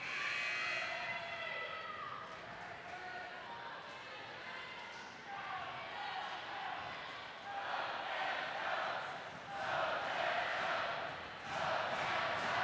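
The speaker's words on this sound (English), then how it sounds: "Fans trying to cheer on the Gaels, get them to come back here." Fans at a women's university volleyball match between the Gaels and Brock cheer, making a broad crowd roar that swells louder toward the end under a commentator's talk.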